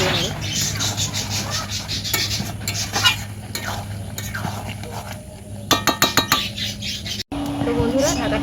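Meat slow-fried kosha style in a pan, scraped and stirred with a metal spatula, gives rhythmic clinks and scrapes over a steady low sizzle, with a louder burst of clatter near the end.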